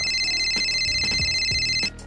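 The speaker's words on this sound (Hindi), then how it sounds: "कप धोते हुए एक फोन कॉल पर ध्यान गया" A phone rings with a steady electronic ringtone in a home kitchen, its repeated tonal pattern filling the scene for nearly two seconds before cutting off abruptly, with faint clinks of cups being washed underneath.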